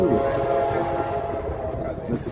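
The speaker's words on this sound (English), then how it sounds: "That's the train that's making that noise, not the boat." A passing train drones with a sustained horn-like tone, heard from a sailing boat on the Pacific, a moderately loud steady rumble with a faint voice murmuring underneath.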